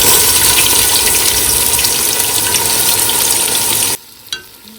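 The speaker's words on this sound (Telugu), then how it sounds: "ఒక పెద్ద ఆనియన్, పొడుగ్గా కట్ చేసిన ఆనియన్ని ఇలా వేసుకోవాలి" Long-sliced large onion hits hot oil in a pan, giving a loud, continuous sizzle for about four seconds before it drops off sharply to near quiet with a faint clink.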